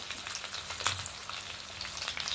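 A large catla fish, about three kilograms, sizzles as it fries in hot oil in a pan: steady crackling and hissing with a few sharper pops, close and loud, with no talking.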